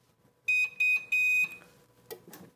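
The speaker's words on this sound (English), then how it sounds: "And when the timer is done, it will alert us." A heat press timer beeps when a 60-second press at 400 degrees finishes, three loud, steady electronic tones in quick succession, followed by faint handling noises.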